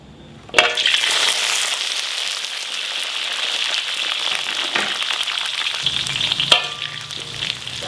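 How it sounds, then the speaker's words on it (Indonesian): Shallots crackle and sizzle steadily in hot oil in a home kitchen, a dense continuous frying hiss with a few clinks of a utensil stirring the pan. "Langsung aja kita goreng biar sedap, biar wangi."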